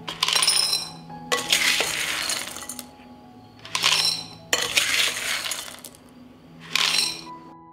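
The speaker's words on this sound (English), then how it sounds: "I put the filled jars in an oven tray" Glass canning jars filled with pasta clink and rattle against a metal oven tray in loud bursts of clattering, with brief pauses between rounds of setting them down.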